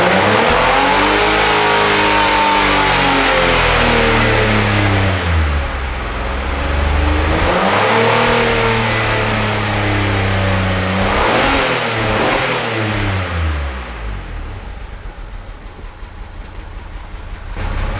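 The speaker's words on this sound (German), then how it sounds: "jetzt läuft der Leerlauf auf Benzinbetrieb" A 2003 Opel Signum 3.2 V6 engine runs on petrol, settling from revving into a steady idle with a rising and falling drone, loud and close, with no talk over it.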